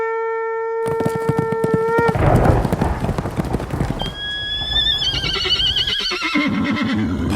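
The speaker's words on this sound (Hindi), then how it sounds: "मां से अनुमति लेकर बर्बरीक अपने नीले घोड़े पर सवार होकर युद्ध में शामिल होने के लिए चल पड़े।" A blue horse carries a rider off to war. A clear neigh comes first, then loud rapid hoofbeats, then another rising whinny as the galloping continues, with no talking.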